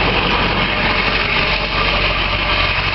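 Engine of a 1999 Ford F450 ambulance running at a steady idle, producing an even, close, unbroken rumbling drone with no talking.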